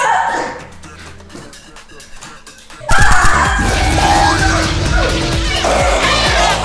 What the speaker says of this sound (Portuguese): O grito dele é muito, muito alto.